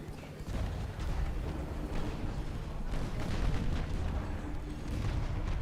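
Naval guns firing shells in a warship battle game: repeated heavy booms and rumbling gunfire that build up in loudness, dense and overlapping, with no talking over them.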